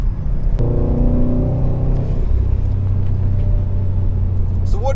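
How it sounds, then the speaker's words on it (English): Boxer engine of a Subaru WRX STI idling and revving lightly, a deep, throbbing low rumble that holds steady and near, shifting pitch about midway, with a brief faint voice at the end. "So what are your thoughts on the Subaru Boxer Rumble?"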